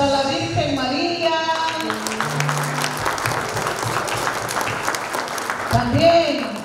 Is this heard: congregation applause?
yes